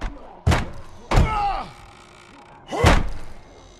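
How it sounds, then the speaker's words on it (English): A door slamming shut in The Walking Dead video game: three heavy, hollow thuds spaced over a few seconds, each loud and close with a short ringing tail, no voices over them. "Shut the door."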